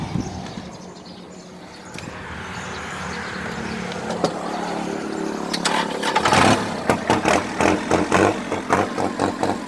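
A 34-horsepower Kubota tractor engine cranks over with a hiss and clatter, then catches into a loud, rhythmic diesel chug that pulses evenly at close range.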